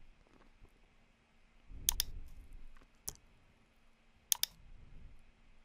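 Sharp computer mouse clicks made while working in Filmora video editing software, with a quick double click, a single click and another quick pair over a faint background hum.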